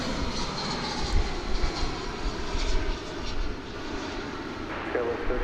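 An American Airlines Airbus A321 jet passes at DFW airport with a loud, steady broadband engine roar that swells slightly and holds, with a person talking over it at times.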